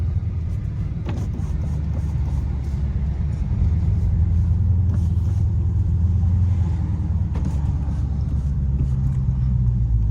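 A Dodge Charger Scat Pack engine rumbles low and steady while driving, a continuous loud drone heard from inside the cabin with faint road noise and occasional small clicks, no talking.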